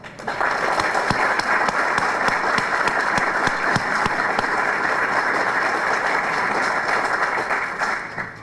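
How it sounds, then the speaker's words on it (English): A large audience applauds at the inauguration of the United States Embassy building in Kosovo: dense, steady clapping sustained for about eight seconds at full strength, then tapering off briefly at the end, with no talk over it. "They deserve a round of applause as well"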